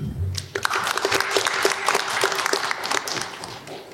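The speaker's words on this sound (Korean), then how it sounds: "다시 한번 큰 박수 부탁드립니다" Audience applause fills a disaster management forum hall, dense steady clapping from many hands after a short low opening, continuing loudly throughout.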